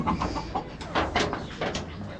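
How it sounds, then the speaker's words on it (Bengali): Chickens kept in a small coop on a house rooftop in Kushtia, giving a series of short, close clucks and squawks in an uneven rhythm over a soft background hiss. "ছোট্ট একটা খামার করা হয়েছে, এখানে অনেকগুলো মুরগি এখানে রাখা হয়েছে"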